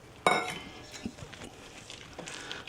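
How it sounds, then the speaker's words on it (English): A handful of blueberries tumbles into muffin batter in a mixing bowl, giving one sharp burst followed by a few light clinks and soft taps against the bowl, close and fairly quiet. "go ahead and dump our blueberries right on in there"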